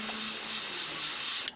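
An airbrush sprays primer onto a Hasegawa 1/72 scale model kit, a close, steady airy hiss that holds evenly before cutting off with a brief click.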